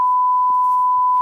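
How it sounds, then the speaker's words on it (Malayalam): A censor bleep covers swearing in a recording from a police lockup, a single loud, steady electronic sine tone held for just over a second, clean and continuous with no voices audible. "പ്രേക്ഷകർ ക്ഷമിക്കണം, ബീപ് സൗണ്ട് ഇട്ടേ പറ്റുകയുള്ളൂ."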